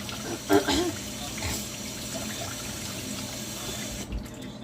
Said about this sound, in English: I'm just going to rinse these off before I cut them.